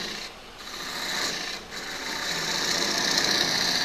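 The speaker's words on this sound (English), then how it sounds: "I use my parting tool, a little thicker parting tool. Mark it in real good." A thick parting tool cuts into spinning wood on a lathe to mark a mortise, giving a steady, close, continuous rasping scrape with a brief dip early on and no talk.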